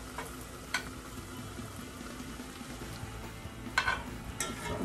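Butter browning in a pan with garlic, a soft steady sizzle and faint frying crackle, with a few brief louder clicks of stirring or pan contact; quiet and fairly close, no talking.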